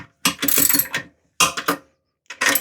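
A ratchet tightens a nut on a toilet flange in three bursts of quick clicking, close and sharp, separated by short pauses.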